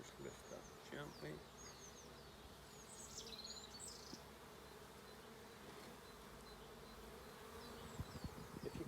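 Honeybees buzz in a steady, dense hum from an opened beehive brood box during an inspection, close and continuous throughout, with faint voices and small handling knocks underneath.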